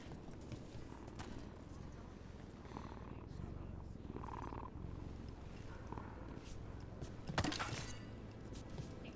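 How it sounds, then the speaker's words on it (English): A cat purrs while being petted in Dragon Age: The Veilguard, a low steady rumbling purr under game ambience and speech, with a brief sharper sound near the end. "There's a cat we can pet."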